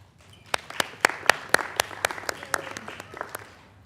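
A small council meeting audience in San Marcos gives a brief round of scattered hand claps, sparse and uneven rather than a full ovation, fading out after a few seconds.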